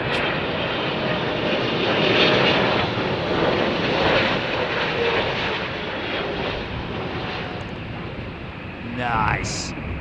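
A Saudi Arabian Airlines jet airliner lands on runway 09L at Heathrow, its engines giving a loud, steady broadband roar that swells and fades slightly across the whole stretch, with a brief higher tone near the end.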